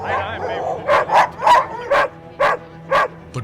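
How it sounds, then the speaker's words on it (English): Several dogs bark in a downtown street of Alaska's largest city on a winter day, about seven sharp, fairly evenly spaced barks, close and loud, with a lower muffled yelp at the start. "But barking dogs give it away."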